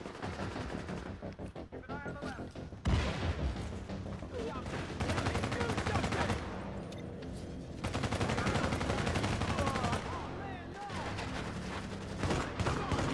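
Rapid gunfire in The Division, bursts of close automatic and shotgun blasts crowding together with short pauses between volleys, loud and dense over a busy game backdrop.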